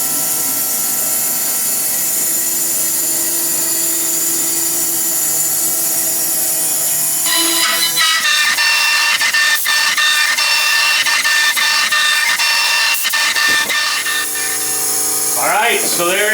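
CNC machine with its spindle running, cutting a guard for a Grizzly 8-inch jointer's cutter head, a steady high whine that shifts into a louder, gritty cutting chatter with rhythmic pulses as the tool engages the workpiece.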